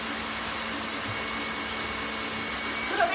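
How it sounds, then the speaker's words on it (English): Kitchen mixer whipping ingredients, a steady even whirring hum that runs continuously at close range with no pauses. "You are going to hear this mixer a lot tonight, everyone."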